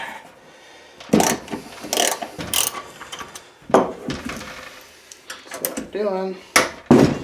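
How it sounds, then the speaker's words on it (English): Someone talks while unscrewing and sliding off governor parts from a brand-new, never-run Predator 212cc 6.5 HP horizontal-shaft gas engine, with close scraping, clicking and rattling metal handling sounds between his words. "is we're unscrewing this whole thing, sliding it off."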